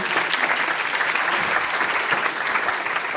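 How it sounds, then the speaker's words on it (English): Applause from a conference audience for the co-hosts, with many hands clapping in a dense, steady wash that holds for the whole stretch, close and fairly loud. "So give a round of applause to our co-hosts here."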